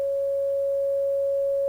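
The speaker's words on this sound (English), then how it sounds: "here we have a sine wave." A pure synthesizer sine wave tone generated in FL Studio, a single steady unwavering pitch held at moderate level for under two seconds, clean and alone.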